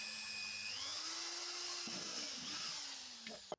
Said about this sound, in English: we then grabbed the drill and began to make the holes.